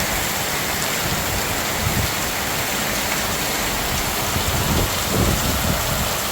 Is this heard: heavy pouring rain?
yes